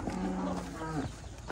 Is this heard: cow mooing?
yes